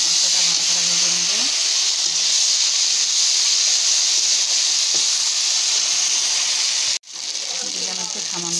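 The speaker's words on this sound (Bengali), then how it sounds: "মশলাটা ভালো করে ভেজে নেব।" A ginger and cumin spice paste fries in a pan, giving a loud, steady hiss and sizzle that carries on throughout with a brief break near the end, while a voice talks quietly over it.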